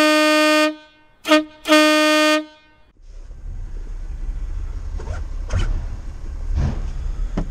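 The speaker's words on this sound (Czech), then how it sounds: "Tak vám jdu ukázat, jak to troubí." A new Italian Iveco truck horn heard from outside the cab: one long blast, a short toot, then another long blast, loud and near, followed by low idling truck rumble and ambient noise.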